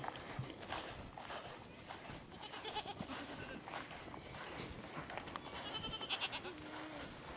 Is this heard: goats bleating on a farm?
yes